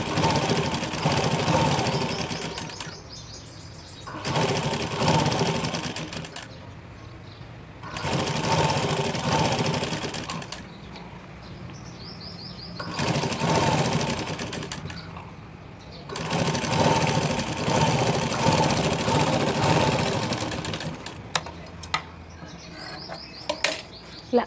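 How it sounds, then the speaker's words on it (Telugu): A sewing machine top-stitches a waistband piece in steady whirring runs a few seconds long, stopping and restarting several times, close and loud with no speech. "ఈ నడుం పీస్ మీద పడేటట్టు టాప్ స్టిచ్ చేసుకోండి"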